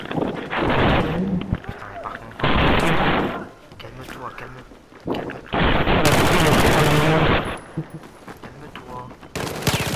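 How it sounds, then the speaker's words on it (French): Heavy gunfire and explosions in the video game Battlefield 4: loud bursts of automatic fire and booming blasts come in several waves separated by short lulls, with a player talking in French between them. "Attendez, il y a beaucoup d'explosions."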